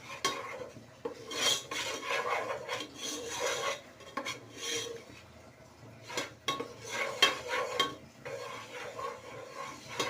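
Flour (maida) is worked into pasta sauce in a pan with rasping scrapes and clinks of a utensil against metal, coming in uneven bursts, close by and with no speech.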